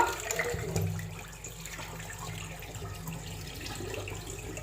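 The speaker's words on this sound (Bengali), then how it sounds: "এখন আমি এটা ভালো করে ধুইয়া একটু ভিজায় রাখবো" Nazirshail rice being washed in water for pitha, a steady wash of running and sloshing water with low rumble throughout, no voices.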